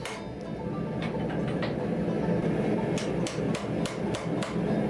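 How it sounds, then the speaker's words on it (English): Metal hammer blows forging texture into 5160 leaf spring steel ring out in a steady series of sharp, bright strikes over a constant background hum. "this hammer is just used for, is forging in the textures"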